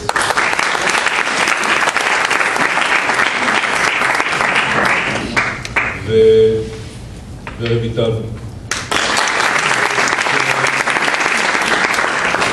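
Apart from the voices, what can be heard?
applause at a graduation ceremony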